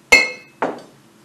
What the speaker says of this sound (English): So I'm going to pour it into the glass.